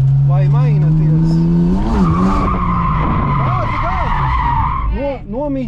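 A BMW E46 with adjusted steering angle drifts on an airfield, tires skidding and squealing loudly in long wavering tones over a revving engine, with brief speech.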